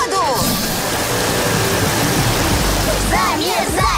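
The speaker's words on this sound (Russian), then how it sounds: "Готовься, целься, заливай замораживаемую воду." Cartoon water pours onto an ice rink to freeze, a loud steady rushing splash like a waterfall that runs throughout, with faint whistly voices over it.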